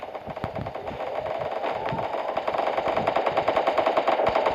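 Rapid automatic gunfire in the Free Fire mobile battle game, a dense continuous rattle of shots that grows a little louder over the few seconds, with no talking.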